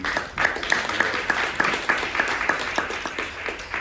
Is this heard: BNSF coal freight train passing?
no